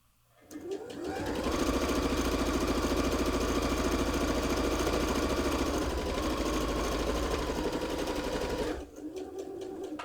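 A sewing machine stitches a zipper bow clutch, starting up after a moment and running in a fast, steady whirring drone for about eight seconds before stopping abruptly, close and alone.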